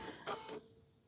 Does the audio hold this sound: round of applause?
no